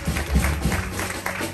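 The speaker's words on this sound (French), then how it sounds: "On acclame très fort." Church congregation applauding loudly, a dense, steady wash of clapping that fills the short moment with a few stronger bursts near the start.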